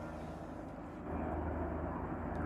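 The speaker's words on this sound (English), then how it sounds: "the helicopter is continuing to make rounds" A firefighting helicopter circles over the Hatcher Mountain area during wildfire operations, its engine and rotor drone faint and distant, steady and slightly swelling.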